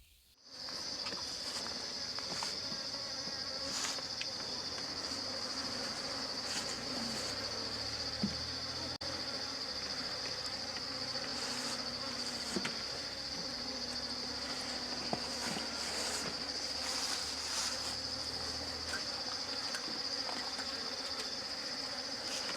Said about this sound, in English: Those are the bees.